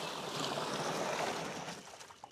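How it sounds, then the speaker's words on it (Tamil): Water pours into a fridge-box fish tank set up for koi carp as a steady, faint, rushing splash that eases off at the end, with no talking. "ஃபஸ்ட்டு தண்ணி வந்து ஆட் பண்ணிக்கிறேன்."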